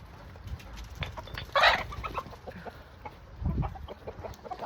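A farm rooster crows once in a short burst, with clucking and other fowl sounds around it, near and fairly loud against outdoor farmyard noise.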